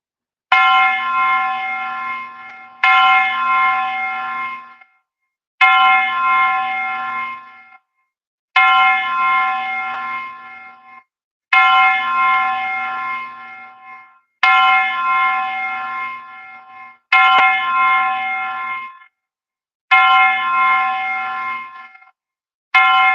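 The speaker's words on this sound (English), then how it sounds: "let us do now the 10 bell salute" A ten bell salute at a wrestling show: a bell is struck over and over at a slow, even pace, each ring loud and close with a ringing tone that hangs for a moment, with brief silence between strikes and no talking.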